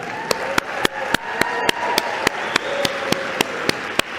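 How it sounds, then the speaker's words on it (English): Applause from an audience, with sharp claps landing in a steady, even rhythm over a continuous wash of crowd noise. "please can we give a massive round of applause to Nozipho Chabalala."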